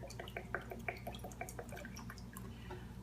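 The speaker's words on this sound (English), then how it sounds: "Now we're ready to put in the turpentine, 8 ounces of turpentine." Gum turpentine pours into a mix of beeswax and boiled linseed oil, giving a close, steady liquid trickle with small dripping splashes over a low background hum.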